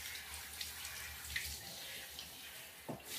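Water runs from a tap into a basin for a dog's bath, a faint continuous splash with a couple of small bumps and drips.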